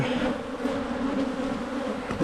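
Honey bees and drones buzz over a brood frame lifted from a hive in early spring, a dense, continuous droning hum, loud and close with no speech.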